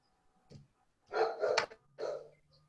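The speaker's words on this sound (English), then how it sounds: "Somebody's got a dog." A dog barks a few times in quick succession, close and fairly clear, in a quiet room during an online meeting, with no talk over it.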